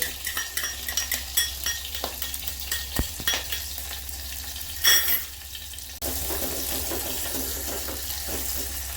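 Green chillies and onion fry in a pan for egg curry. There is steady close sizzling with repeated scraping stirs, and a brief watery splash midway.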